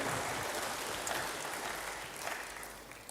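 A church congregation applauds, a broad, even patter of many hands clapping that stays steady and then gradually thins toward the end, fairly distant and soft.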